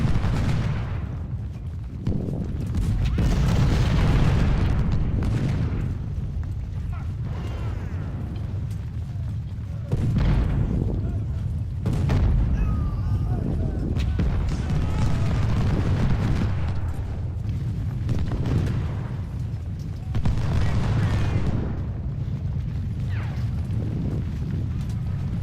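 Gunfire and artillery in the video game Ultimate General: Civil War, Union campaign river crossing: repeated rolling musket volleys and booming cannon blasts in irregular bursts, dense and continuous over the whole stretch.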